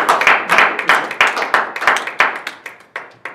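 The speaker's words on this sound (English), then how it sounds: "please join me in a round of applause for Captain Creativity" A small audience claps in a sparse, uneven burst, individual hand claps clearly distinct and close, thinning out toward the end.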